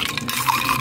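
A spoon swirls through a lemon and mint drink, giving a brief, steady wash of close liquid sloshing and gentle clinks.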